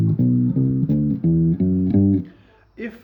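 An electric bass plays the opening notes of a major scale, do re mi, as a series of clean, evenly spaced plucked notes that step upward, fairly loud and close, with a brief faint voice at the end.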